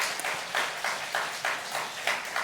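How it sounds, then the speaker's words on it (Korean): Audience at a university chapel service clapping in unison, a steady rhythmic beat of claps about twice per second, moderately loud and close, no speech over it. "여러분 먼저 박수 한번 하겠습니다"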